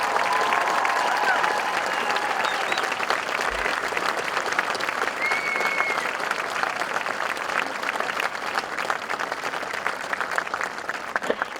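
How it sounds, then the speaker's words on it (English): A dense, steady round of applause from a graduation audience honoring standing scholarship recipients at the Pentucket High School class of 2013 ceremony, sustained and loud throughout with a crowd murmur underneath. "I'd like all scholarship recipients to stand for a round of applause."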